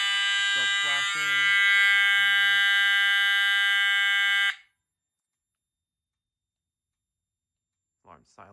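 A fire alarm panel's horn sounds loud and continuous during a system walk test, then cuts off abruptly, followed by silence and a short burst of speech.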